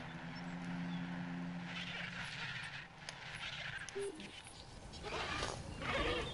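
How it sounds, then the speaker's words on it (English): Goats bleating in a video game zoo enclosure, a few short bleats rising over a low ambient drone and background hum, with a voice talking faintly in places. "You know, there's even goats in it."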